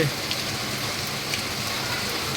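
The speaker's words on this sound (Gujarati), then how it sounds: "4:30થી વરસાદ ફૂલ જ પડી રહ્યો છે" Heavy, continuous rain pours down in a steady, dense hiss, with spattering drops on surfaces and no break throughout.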